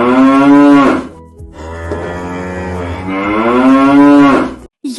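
A cow moos in two long, loud, deep calls close by, separated by a brief pause, with no voices.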